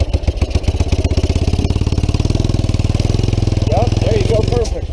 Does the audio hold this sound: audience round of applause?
no